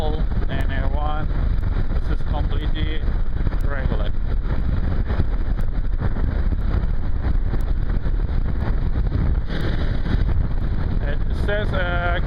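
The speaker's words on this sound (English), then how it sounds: "I can't hear myself because this wind is making too much noise." Heavy, constant wind buffeting a motorcycle rider's microphone while riding in traffic in Iran, a broad low roar running through the whole stretch, with someone talking over it.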